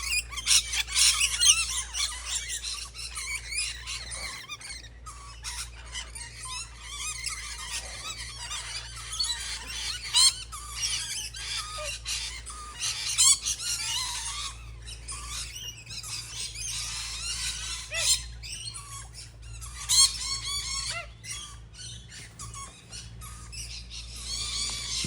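Brightly coloured birds in Australian wildlife squawk and screech repeatedly in loud bursts over a low steady background hum, with many overlapping harsh calls.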